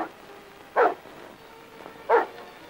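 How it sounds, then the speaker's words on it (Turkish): A dog barks in a garden in an old black-and-white Turkish film: two short, fairly loud barks about a second and a half apart, with quiet room tone between them and no voices. "Bu köpek havlamazdı, bahçede biri mi var yoksa?"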